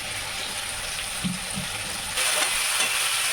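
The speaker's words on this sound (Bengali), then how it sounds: "তেলটা যেই ফুটে আসবে গরম হয়ে যাবে তখন আপনি উচ্ছেটা ছেড়ে দেবেন" Slices of bitter gourd fry in hot oil, giving a continuous crackling sizzle. A couple of soft knocks come partway through, and the frying swells louder and brighter toward the end, with no voices.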